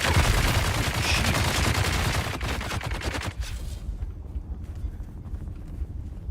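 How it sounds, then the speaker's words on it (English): Minigun fire in the video game Dune: Awakening, a loud, sustained roar of rapid shots for a few seconds that cuts off abruptly, leaving quieter scattered clatter and rumble behind. "Fire one shot, immediately get magged up by a couple of miniguns."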